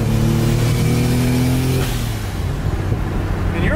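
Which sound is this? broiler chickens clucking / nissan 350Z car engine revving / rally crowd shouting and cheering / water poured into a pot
nissan 350Z car engine revving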